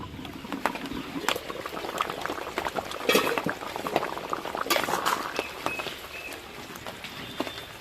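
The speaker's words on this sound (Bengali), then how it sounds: "মাছগুলো দিয়ে আবারও একটু ফুটিয়ে নেব।" Hilsa-like bhangon fish curry with potatoes bubbles in a pot, with close, continuous boiling pops and gurgles that vary in strength, loudest around the middle, with no talking.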